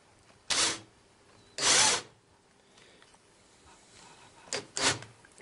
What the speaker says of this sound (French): j'ai monté la mèche sur une perceuse parce que sur ma visseuse elle n'est pas assez puissante